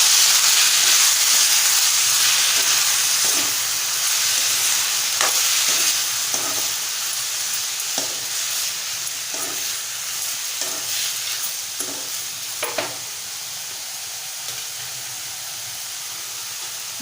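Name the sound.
sautéing ivy gourd and potato in a pan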